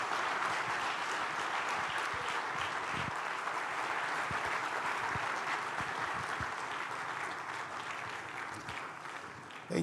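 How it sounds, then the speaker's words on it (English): A large audience applauds steadily for about ten seconds to welcome Nigerian Bishop Matthew Hassan Kukah onto the platform at a June 2024 democracy event, a dense, sustained roar of clapping that eases slightly near the end. "Please join me with a warm applause as we welcome once again to the platform Nigeria Bishop Matthew Hassan Kukah."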